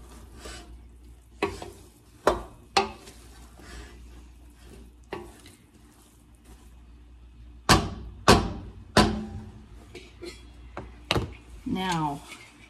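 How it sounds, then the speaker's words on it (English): Italian sausage dressing with chicken broth is stirred in a pan with a utensil, giving scattered sharp scrapes and knocks against the pan over a quiet, low background sizzle. "Stir it in well."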